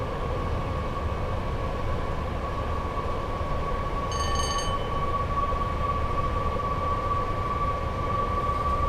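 Class 86/4 electric locomotive in Train Sim World 6 running near Crewe, a steady loud rumble with a constant electric whine throughout, and a brief higher warning tone about halfway through.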